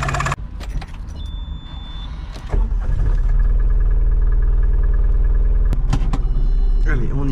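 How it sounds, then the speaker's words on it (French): Old-style uninsulated diesel engine of a Microcar Dué Must Progress microcar, idling with a steady low throbbing rumble that grows louder after a clunk partway through, with a few clicks and knocks on top. "C'est vrai que c'est un moteur diesel à l'ancienne, qui n'est pas calfeutré"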